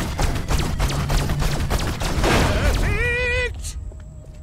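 Rapid gunfire in the Destroy All Humans video game, a dense burst of repeated shots followed by whining electronic weapon tones, with game voices mixed in.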